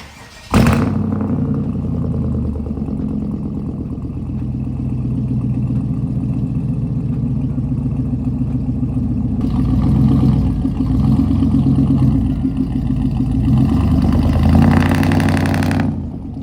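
A car engine with a scuffed exhaust idles loud and close in a continuous low rumble, swelling slightly now and then as if lightly revved, with no talking over it.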